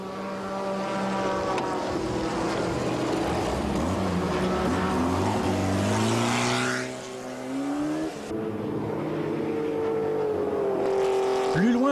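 Small-displacement race cars howl past on a circuit in a 1995 endurance race, engine notes rising and falling in pitch as they pass near, one after another, continuous and fairly loud with a faint voice underneath.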